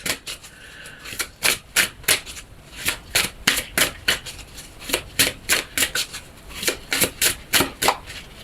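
Tarot cards being shuffled by hand in a steady run of crisp riffling bursts, close and fairly loud, repeating about every half second with no voices.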